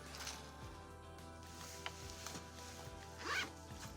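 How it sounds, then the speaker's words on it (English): A zipper on the pocket of a Betsey Johnson handbag runs once at close range, a short quiet zip over a faint steady background hum, with no talking. "It has a zippered pocket."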